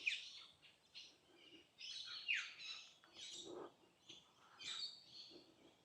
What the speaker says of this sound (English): A lot of parrots and things around.